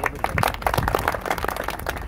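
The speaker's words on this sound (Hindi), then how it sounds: "भरपूर तालियां" Audience applause in a mushaira hall, a dense, steady patter of many hands clapping at once, fairly loud and continuous throughout with no voices on top.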